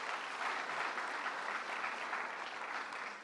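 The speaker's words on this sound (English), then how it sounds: "Let's give them a big round of applause" An audience at a Bar Association event gives an even, sustained round of applause, dense clapping from many hands at moderate distance, tapering slightly toward the end.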